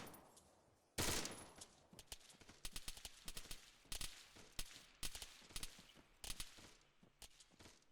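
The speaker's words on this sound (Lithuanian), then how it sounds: "Dar vienas šaudo iš kažkur" Gunfire in the military shooter Arma 3: a loud opening shot followed by irregular bursts of sharp cracks and short volleys, some near and some more distant, with brief quiet gaps between them.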